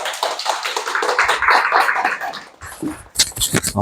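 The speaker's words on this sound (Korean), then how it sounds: "박수 치고 마치겠습니다" An audience applauds at the end of an insurance sales talk: dense, loud clapping for about two and a half seconds, then scattered claps and taps as it dies away.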